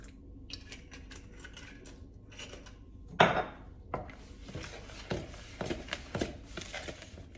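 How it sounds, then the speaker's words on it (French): Almond paste filling for gazelle horns mixed in a bowl, with irregular knocks and taps of the utensil against the bowl, close and sparse, one sharper clatter early, no talking. "Et on va mélanger tout ça"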